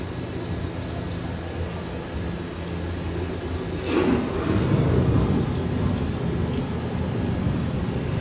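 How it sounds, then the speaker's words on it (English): A thunderstorm scene on the Living with the Land boat ride at EPCOT, Walt Disney World, produces a deep rumble of thunder that swells about halfway through and then keeps rolling over a steady background roar. "The approaching storm may seem violent and destructive to us"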